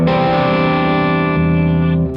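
Electric guitar runs through a Tubesteader Lightkeeper Dumble ODS-style tube preamp pedal with its boost engaged, giving a loud, sustained, saturated chord that rings close and steady for about two seconds.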